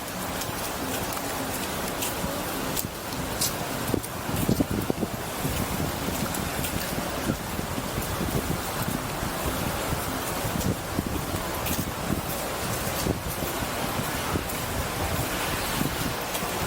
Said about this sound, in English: The breeze